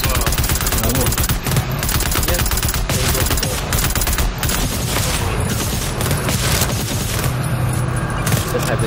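Rapid automatic gunfire rattles almost continuously in a cooperative PvE shooter game, dense and loud, with talk running underneath the shooting.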